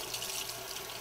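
Tap water pouring steadily over a Veken pet fountain filter as it is rinsed and saturated, a continuous close hissing splash with no break and no talking.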